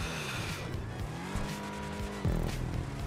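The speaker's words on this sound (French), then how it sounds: "C'est vrai qu'elle patine à mort." Car tires in a racing video game spin and squeal on takeoff, a loud engine rev with skidding whine that rises and shifts pitch, close and continuous, a sharper surge near the end.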